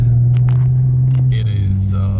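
Cadillac CTS V-Sport engine idling after a throttle body upgrade, a steady low close hum that dips slightly in pitch, with someone talking over it.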